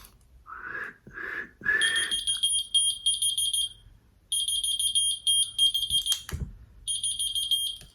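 Three short whistled notes, then a small whistle-activated key finder answers with rapid, high-pitched electronic beeping in repeated bursts, piercing and close.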